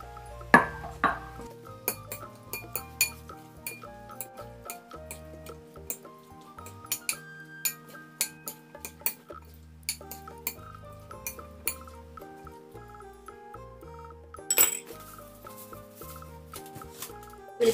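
Shrimp marinade being mixed in a bowl, with utensils clinking and scraping against the dish in a steady run of bright chinks, close up with no talking and a louder clatter near the end.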